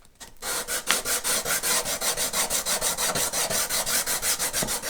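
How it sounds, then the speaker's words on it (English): Steady back-and-forth sanding on the wooden face of a Stratocaster guitar headstock, close and loud, with about twenty even rhythmic strokes and no talking. "I'm just going to sand the rest of the face of the headstock"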